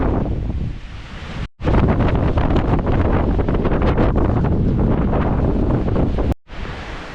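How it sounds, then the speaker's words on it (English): Strong mountain wind on a hike in the Tatras, roaring and buffeting the microphone in loud, continuous gusts, broken by two brief drop-outs. "The wind is so strong right now"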